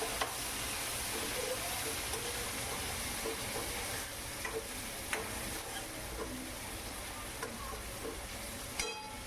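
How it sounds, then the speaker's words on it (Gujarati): Chopped tomatoes and green chilies sautéing in a pan for upma, a steady close sizzle with occasional stirring scrapes and clicks and a brief metallic tap at the end, with no voice. "મરચાંને આપણે એડ કરીશું. એને સુતળવા દઈશું."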